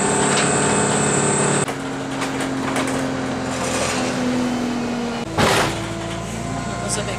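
Interior of a moving bus, a steady engine hum and road rumble with a tonal drone, continuous throughout, broken near the end by a sharp jolt like a bump.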